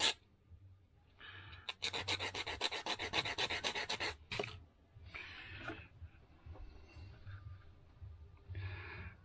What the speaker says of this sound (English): Give it a bit of a sand.